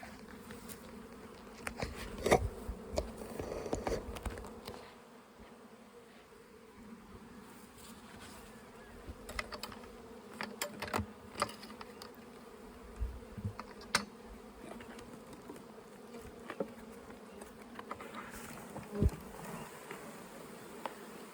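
Bees buzz steadily around small salvage hive colonies, a dense, continuous drone with individual insects flicking close past now and then.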